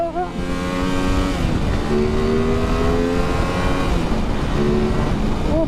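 An Aprilia RS 660 motorcycle pulls hard in first gear, its engine note climbing and resetting in rising sweeps, loud and close with wind rush underneath.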